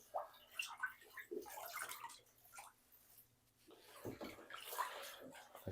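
A wetsuit soaks in cold water in a bathtub, giving faint sloshing, dripping and gurgling sounds that come and go at a quiet, close level.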